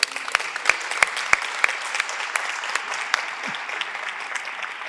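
Audience applause at the presentation of the film La Dona Il·legal, continuous clapping from a room full of people with a few sharp, close individual claps standing out.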